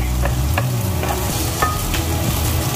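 Onion sizzling and frying in a pan as the base for Filipino bihon guisado, a continuous close hiss broken by soft stirring scrapes.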